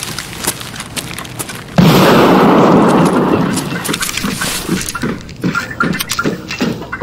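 A frag grenade detonates in a video game, a sudden loud boom that rolls into a sustained rumble and fades over several seconds, with scattered clicks and footsteps around it.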